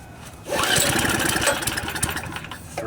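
Small carbureted engine pull-started with the choke on, firing on the first pull: a quick recoil tug, then the engine catches and runs roughly at a loud, uneven idle, close by with no talk.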